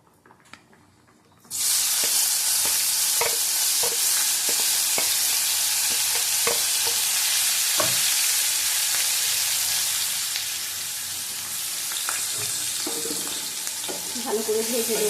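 Onions and green chilies hit hot oil in a pan with a sudden loud, steady sizzle that holds for the rest of the moment, with scattered spatula scrapes and clicks close by.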